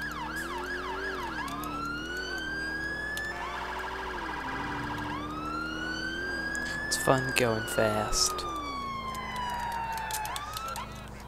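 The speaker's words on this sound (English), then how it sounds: "let's shut off our siren because we're in the area." A police car siren in GTA IV wails loud and close, sweeping up and down through the clip and briefly shifting to a faster yelp pattern near the end, while a person speaks over it.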